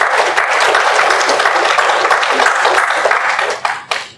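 A church congregation applauds its worship team in a steady, dense burst of clapping that holds for a few seconds, then thins to a couple of final scattered claps.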